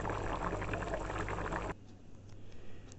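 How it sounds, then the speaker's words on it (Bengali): Curry bubbling at a rolling boil in a pot, a dense close fizzing and popping that suddenly thins to a softer, quieter simmer partway through. "দেখুন কি সুন্দর বলক চলে এসছে তরকারিতে"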